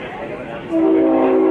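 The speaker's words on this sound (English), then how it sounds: "It's not the siren, that's a train." A train horn sounds near a football oval during a VFL match at Punt Road Oval. The steady, sustained tone comes in partway through and holds to the end, under ongoing commentary.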